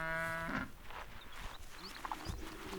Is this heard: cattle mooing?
yes